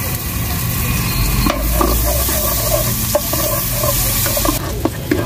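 Garlic frying in hot melted butter for home-made pork chao fan, a loud continuous sizzle with scraping and stirring clatter of a spatula in the pan, close up and without talk.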